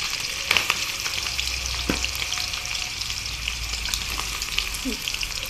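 Chopped onion sizzles steadily in hot oil, a loud continuous crackle with occasional stirring clinks and scrapes.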